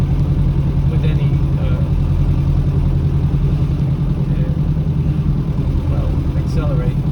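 A 1957 Mercedes 180D diesel car putters along at low cruising speed, its engine giving a steady, low, throbbing drone from inside the cabin with no change in pace.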